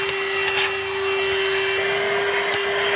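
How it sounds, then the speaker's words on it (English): A vacuum cleaner with a crevice attachment runs steadily while cleaning a car interior, a loud constant whine with faint scraping and bumping underneath and no speech. "I can't believe how fantastic this vacuum works, and this attachment fits really nicely in all those little crevices"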